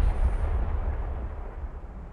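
A volcano erupts during a Fortnite live event at Leaky Lake, a steady deep rumbling roar with dense low booms like distant artillery, sustained and loud with no talk.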